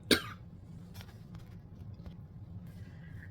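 A single sharp cough at the start, close and fairly loud, followed by quiet room tone with a faint throat sound and soft background hum.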